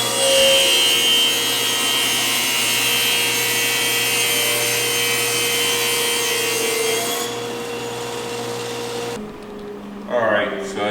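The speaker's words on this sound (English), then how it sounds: "Let's do a rip cut on burr oak." Power saw fitted with a premium blade ripping a board of burr oak, a loud steady whine that runs continuously and then cuts off near the end, followed by a brief clatter.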